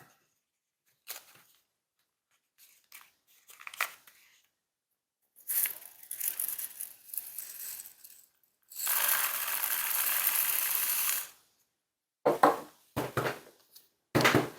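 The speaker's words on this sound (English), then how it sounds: "Actually, first I'm going to pour in the shot." Birdshot is poured into a carbine barrel, coming as bursts of rattling, trickling pellets, with one long steady pour in the middle and shorter clattering spills before and after, separated by silence.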